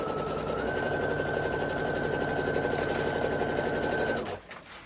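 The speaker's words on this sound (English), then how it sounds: "And then we are just going to sew on that 1/4 inch." Sewing machine stitching a quarter-inch seam, a steady fast mechanical whir with rhythmic needle chatter running continuously for about four seconds before stopping abruptly.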